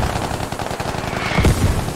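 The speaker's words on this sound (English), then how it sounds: "Mortars now being fired close in" Mortar fire lands close in the video game Squad, with one deep booming impact cutting through a steady rattle of ongoing gunfire, loud and near.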